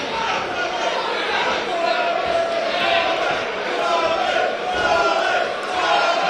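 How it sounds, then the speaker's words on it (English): A boxing hall crowd roars and chants steadily behind fighter Tom Pogson, a dense, continuous wall of cheering and shouting with a commentator's voice over it. "Crowd getting behind Tom Pogson now."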